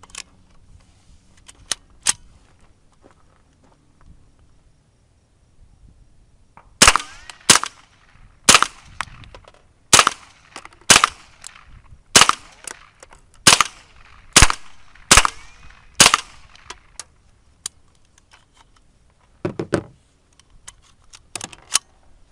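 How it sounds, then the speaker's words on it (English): A Spikes Tactical .22 rifle kit fires a ten-round group at a target about 10 yards away. The shots are sharp, loud and evenly spaced, about one per second, with a few faint clicks before and after the string. "we're just going to shoot like a 10 round group to see what kind of groupings we can get"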